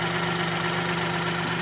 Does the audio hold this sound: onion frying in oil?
no